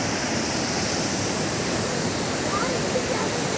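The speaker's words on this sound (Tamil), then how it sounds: "அதுக்கே இவ்வளோ ஃபோர்ஸாக தண்ணி போயிட்டு இருக்கு." Water from the flooded Chittar dam in Kanyakumari pours with force through two shutters opened about four inches during heavy rain. It makes a loud, steady, broadband roar that fills the whole stretch without a break.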